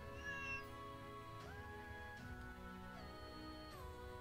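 The kitten Nekoruna meows in the game Shikiyoku, several drawn-out meows under background music.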